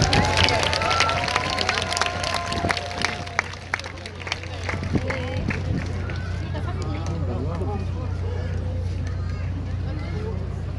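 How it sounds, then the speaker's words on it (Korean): Audience applause greets a ballad team taking the stage at an outdoor event at Yeonmudae, Hwaseong Fortress in Suwon, rising in a loud burst early on and then fading into a steady crowd murmur. "여러분 따뜻한 박수로 청해 주시죠"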